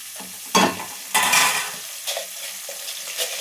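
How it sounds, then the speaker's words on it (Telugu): Curry leaves frying in a pan with carrots while being stirred, close bursts of sizzling and scraping at irregular intervals, two strong stirs early and then softer sizzles. "కరివేపాకు కూడా మంచిగా వేయించుకోవాలి."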